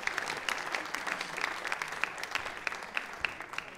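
Crowd applause at a community gathering, steady scattered clapping with individual sharp claps standing out, moderately quiet and heard from a short distance with no talking over it.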